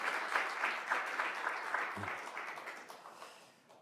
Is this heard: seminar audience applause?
yes